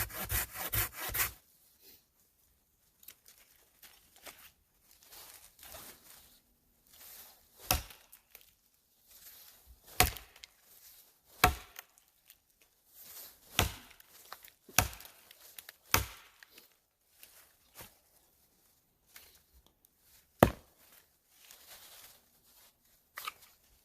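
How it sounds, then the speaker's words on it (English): Crosscut saw cutting through wood outdoors, with steady rasping strokes and sharp, loud cracks and knocks scattered through a long stretch, close by and without talk. "that's going to demonstrate some of the differences between a crosscut using a saw"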